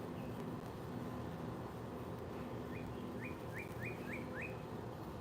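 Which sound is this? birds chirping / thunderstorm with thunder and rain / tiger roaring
birds chirping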